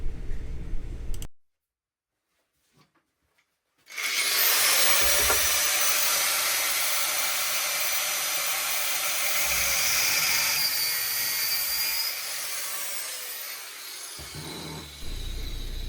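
A small power tool grinds a notch into the metal of a soapbox-style quad chassis, a loud harsh continuous whine lasting about ten seconds after a brief silence, with a short low start before it.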